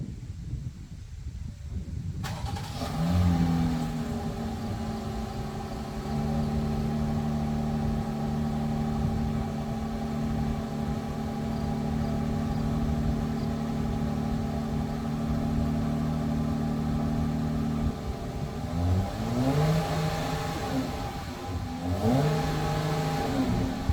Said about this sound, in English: let's get you some clips of this original stock exhaust first